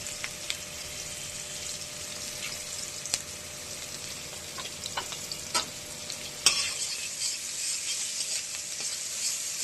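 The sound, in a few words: onions frying in hot oil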